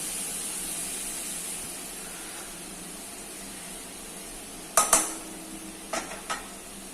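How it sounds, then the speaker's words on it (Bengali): Stuffed pointed gourds are laid one at a time into hot oil with spices, giving a soft, steady sizzle broken near the end by a few sharp utensil clinks and clatters. "তেল যখন বেরোতে শুরু করবে, তখন পটলগুলো আমি একটা একটা করে দেব।"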